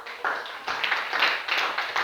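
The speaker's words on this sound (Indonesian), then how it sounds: "berikan tepuk tangan dulu" Classroom group applauding after a student group's presentation, a short, moderately loud patter of hands clapping in uneven bursts.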